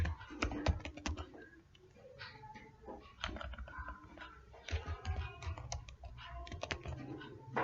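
Rapid, close typing on a computer keyboard, a dense run of crisp key clicks with short pauses between bursts, fairly quiet overall.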